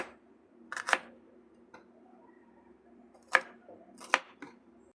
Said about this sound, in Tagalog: yung sibuyas natin naman ang next nating ihiwain